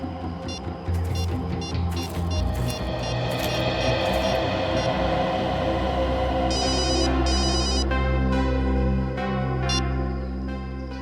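A telephone rings with bright repeated electronic bursts over a loud, dense dramatic music score, the rings coming in short clusters in a busy mix.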